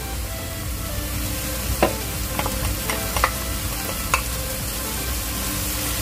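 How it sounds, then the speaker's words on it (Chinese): Tomato sauce hits a hot pan and sizzles in a steady, dense hiss, with a few brief sharp pops and clicks scattered through it. "然之後咧 就可以咧將我哋嗰個醬汁倒落去"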